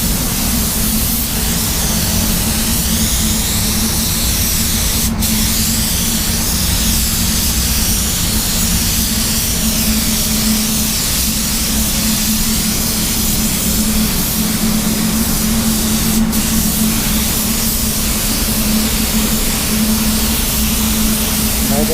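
A spray gun hisses continuously while laying a heavy coat of Standox VOC topcoat, a loud, even airy rush with a steady low hum beneath, lasting the whole stretch.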